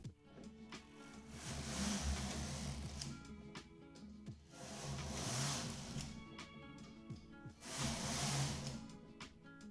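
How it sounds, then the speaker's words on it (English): Knitting machine carriages sweeping back and forth across full needle rib at tension 4, three long hissing, rattling passes with short pauses between, close and fairly quiet. "now I will set my carriages to knit the normal way, and I'll knit 4 more rows of full needle rib"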